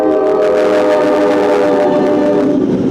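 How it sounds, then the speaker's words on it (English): Short train of just two cars rolls past in rural Kentucky, loud and close, with a sustained horn-like tonal drone over rumbling wheels that holds steady for three seconds. "Thought I was gonna get this beautiful train driving by shot, and it was 2 cars."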